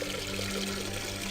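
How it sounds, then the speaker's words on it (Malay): Water pouring from an outdoor tap into a bowl, a steady, close rushing stream heard alone for a brief moment. "Saya nak isi air kejap untuk kita pre-clean kita punya bowl"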